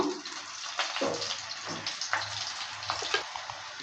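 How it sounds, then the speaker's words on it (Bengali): Potatoes frying in a pan for green pea ghugni, a soft continuous sizzle with scattered crackles and occasional scraping as they are stirred, fairly quiet and close. "আলুটা দেওয়ার পর ভালো করে আবারও নেড়েচেড়ে নিচ্ছে আলুটাকে একটু লাল লাল করে ভেজে নেব"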